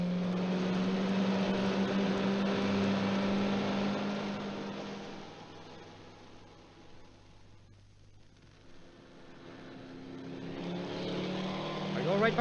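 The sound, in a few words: car speeding on the road, radio drama sound effect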